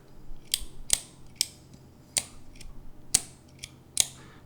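Side-click bolt-action EDC pen clicking in crisp, sharp bursts, about seven irregular clicks, close and fairly quiet with no talking.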